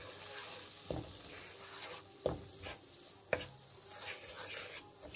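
Semolina being roasted in melted butter for dates halwa, a soft low sizzle broken by a few distinct scraping stirs of a spoon against the pan.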